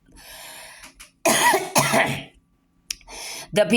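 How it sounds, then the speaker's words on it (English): A few harsh coughs and throat-clearing bursts in short clusters, close and fairly loud, separated by brief quiet gaps. "You see I'm coughing?"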